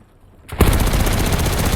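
Loud, sustained automatic gunfire in a video game kicks in abruptly after a brief quiet moment and continues as a rapid, continuous stream of shots.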